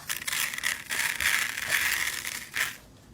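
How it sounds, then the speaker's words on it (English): Dry rice pouring steadily into a small box, a continuous hissing rattle that swells and thins, ending with a brief final trickle. "again we're gonna refill it with some rice."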